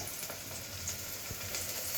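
Onion, garlic and whole cumin fry in a pan for a Bengali khichuri, giving a soft, continuous sizzle at low volume with faint stirring and no talk.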